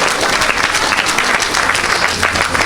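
Congregation at a church service applauding loudly, a dense continuous clapping close at hand with some crowd voices mixed in.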